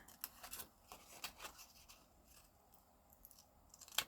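Scissors snip out a picture from a magazine for a napkin-decoupage card, a few short, quiet, crisp cuts with soft paper rustling between them.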